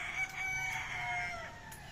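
Chickens at their coop: a rooster crows in a clear, drawn-out call with soft clucking around it, fairly faint and heard from a short distance.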